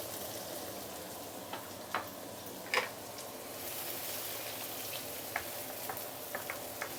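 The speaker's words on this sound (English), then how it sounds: "put all this into the wok and saute for a couple of minutes before we continue" Curry rib ingredients saute in a hot oiled wok, giving a steady soft sizzle broken by scattered small ticks and scrapes of stirring, faint and close with no voices.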